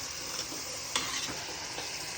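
Garlic-coconut masala roasting in oil for vegetable pulao, a steady close sizzle with scraping stirring strokes and a sharper spatter near the middle.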